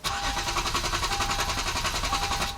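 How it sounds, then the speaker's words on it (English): A Hyundai Genesis engine cranks steadily without firing, the starter giving a fast, even rhythmic whirr that stays loud and close for the whole stretch with no catch or idle. "The engine is cranking"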